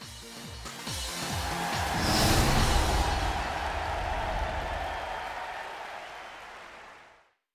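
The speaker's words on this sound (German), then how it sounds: "Jetzt bitte ich um einen tosenden Applaus für unsere Arena-Leiter." Crowd applause from the Pokémon Sword video game's opening ceremony swells into a broad, sustained roar of clapping, peaks after a couple of seconds, then fades out smoothly toward the end.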